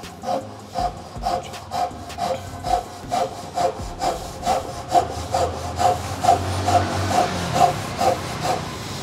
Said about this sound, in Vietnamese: mình sẽ sử dụng là lực kéo lui về để cắt